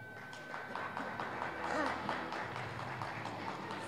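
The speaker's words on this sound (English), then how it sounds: "Generous applause for Amalia." Generous audience applause fills an auditorium at a para powerlifting world cup in Kuala Lumpur, a steady mid-distance patter of many hands continuing beneath a commentator's voice.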